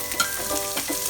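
Onion sizzles in a pan with golden-browned pork and garlic for Filipino pancit canton, a steady close frying hiss with a light stirring scrape.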